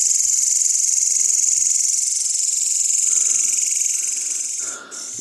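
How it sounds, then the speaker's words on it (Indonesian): Crickets in a forest at night chirp in a dense, continuous high trill, loud and close, with a faint background hum and a brief dip near the end. "Suara jangkrik kayak gini lumayan."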